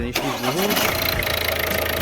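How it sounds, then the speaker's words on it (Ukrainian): A Volvo V50 1.6 HDI diesel engine cranks and catches, then settles into a steady, rough idle close by. "Зараз запустимо двигуна та покажу"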